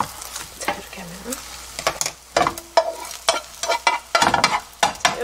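Egg mixture frying in a pan for tuna gimbap, made a bit thicker than usual, with irregular stirring and scraping clicks over a steady soft sizzle, close and moderately loud, no talking.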